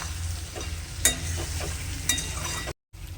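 Chicken with garlic and green chillies being sautéed on low heat in a pan, a soft continuous sizzle with two sharp scrapes of a stirring spoon, then a brief cut to silence.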